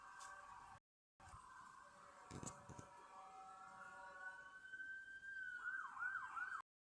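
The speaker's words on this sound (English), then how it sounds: "there's a noisy siren from a police car" A loud wailing police car siren sweeps up and down continuously, with a brief dropout early on and rising yelps toward the end.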